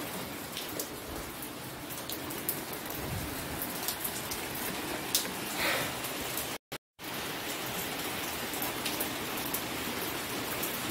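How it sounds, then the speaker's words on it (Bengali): Steady rain pours onto a wet courtyard, a dense, even hiss of drops that continues throughout, with a faint distant rumble early on and a very brief dropout partway through. "এইভাবে বৃষ্টি পড়ছে"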